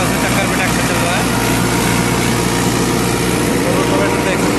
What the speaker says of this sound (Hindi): अब ट्रैक्टर से वीडियो बना रहा हूँ, आप देख सकते हैं थोड़ा सा चक्कर भी ट्रैक्टर चल रहा है।